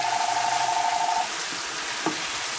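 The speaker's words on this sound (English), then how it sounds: "Oh, it smells so good when all them onions hit that grease like that." Chopped onions and green peppers sizzling in hot grease in a pan, a steady, close hiss and crackle with a faint tonal hum at first and a small clink partway through.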